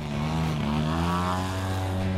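A miniature remote-controlled aircraft flies close by with a loud, steady, buzzing propeller whine that shifts slightly in pitch, heard alone.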